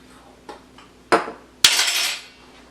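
A spoon stirs salt and pepper into cornbread stuffing with fresh herbs and sautéed garlic, celery and onions in a bowl: a few light clinks, then a sharp knock and a longer scraping swish.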